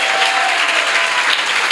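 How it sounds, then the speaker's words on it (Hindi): Church congregation clapping loudly for the Lord during a Hindi-language service, a dense, sustained roar of many hands close and loud with no breaks. "और प्रभु के लिए जोरदार ताली बजाएंगे।"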